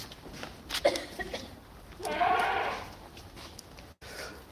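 Goats bleat nearby in a farm enclosure amid smoke from stubble burning, with a few short calls and a longer strained cry, fairly faint over background noise.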